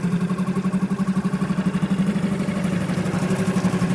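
Suzuki 6HP four-stroke outboard motor idling during winter storage, a close, steady low putter with an even pulsing rhythm that runs throughout.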